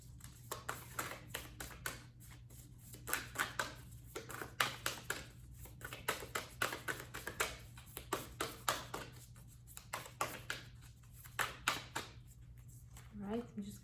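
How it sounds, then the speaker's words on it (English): Oracle cards shuffled by hand in a deck that is stiff to shuffle, giving repeated soft riffling and tapping bursts close to the microphone over a steady low hum, with a person talking through it. "Not the easiest deck to shuffle, but we're getting there."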